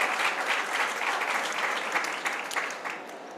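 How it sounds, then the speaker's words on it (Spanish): Steady, dense applause from an audience at a public-sector panel event on attracting talent, sustained and fairly loud throughout with no voices over it. "pido un fuerte aplauso para ellas"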